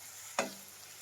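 Onions frying in oil in a pan while cooking a capsicum palya, a single quiet sizzling burst as they are stirred, fading into faint frying.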